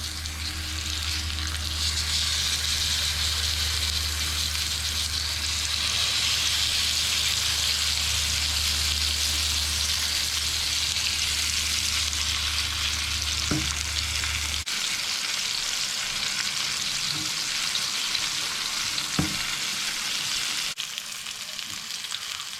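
Pineapple lollipop sticks fry in a hot pan with a loud, steady sizzling hiss, an underlying hum dropping out midway, and a couple of faint knocks.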